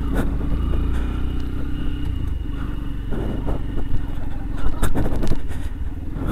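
A Yamaha FZ-X motorcycle with a 149 cc engine rides off-road, its engine droning loud and steady with rough rumbling and clattering over bumpy ground, rising briefly near the end.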